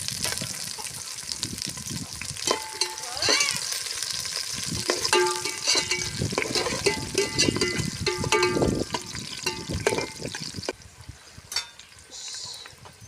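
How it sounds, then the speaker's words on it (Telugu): Two medium onions and two green chillies fry in hot oil with a loud, steady sizzle up close, broken by the scrape and clatter of stirring. "ఆయిల్ హీట్ ఎక్కిందండి, మీడియం సైజు 2 ఉల్లిపాయలు వేస్తున్నాను"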